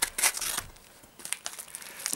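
Crinkling and tearing of a small plastic package being opened, a few loud rustling bursts at first, then lighter scattered crackles close by.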